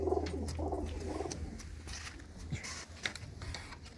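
Low, soft cooing of pigeons repeats in the first second and a half, followed by rustling and scattered clicks close by.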